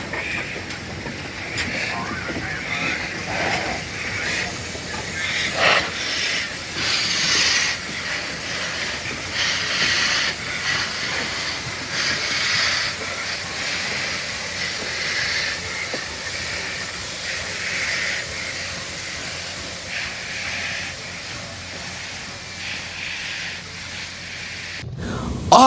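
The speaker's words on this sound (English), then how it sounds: "Norfolk Western J Class number 611. Return to the main line." Norfolk & Western J Class 611 steam locomotive on a railroad main line: a sustained, distant rolling rumble with steam hiss and faint clickety-clack of wagons, steady throughout with a slight swell near the middle.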